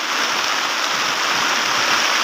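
Heavy monsoon rain falls over soybean country in Maharashtra, a dense, unbroken hiss of downpour that stays loud and even throughout, with nothing else standing out.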